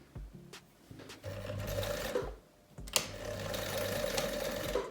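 A sewing machine runs up a seam in two close bursts of fast, even needle chatter, with a short pause between them and a rising whir as the stitching speeds up.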